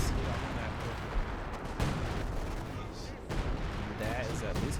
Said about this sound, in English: There's a sector artillery activated.